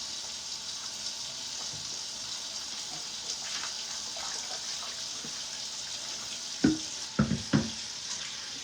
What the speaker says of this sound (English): Let me wash this bowl out